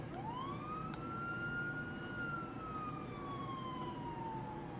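A modded police car siren in GTA V wails once, a single long tone sweeping up and then slowly falling, fairly faint over a steady low rumble, with no talk.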